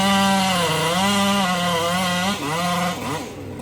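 A chainsaw cuts into a large tree stem in a stable yard, close and loud, its engine revving and bogging with a wavering pitch as the bar works through the wood.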